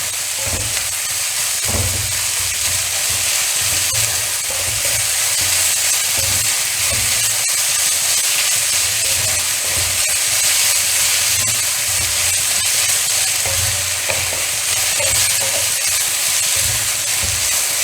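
Chicken curry with ginger and garlic sizzles and hisses loudly in a hot pan, with occasional low scraping knocks as it is stirred, continuous throughout.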